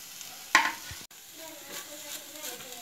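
Grated coconut and cumin roast in a little oil in a pan over a low flame for a tomato-drumstick curry, with a sharp spatula scrape early on, then quiet sizzling and soft stirring close by.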